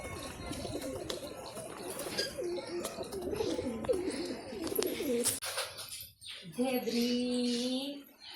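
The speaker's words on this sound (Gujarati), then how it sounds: "ખાસ કરીને આ ઘુઘુડા મતલબ કે કબૂતર" Pigeons cooing in a leafy home garden with lemon and other trees and coconut palms around, soft rolling coos repeating near and steady, with a clearer close coo at the end.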